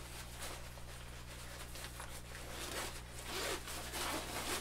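A zipper pulled open along the main compartment of a day-hiking backpack, a steady close rasp over low background hum, with no talking.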